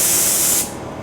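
Paint spray gun running at about 40 PSI in cold weather, a loud steady broadband hiss that holds for about half a second and then cuts off.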